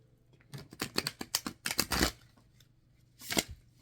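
Matte-laminated 350 GSM playing cards, 2.75 by 4.75 inches, being shuffled by hand: a quick run of crisp riffling flutters and snaps, a pause, then one more short burst, close and clear with no talk.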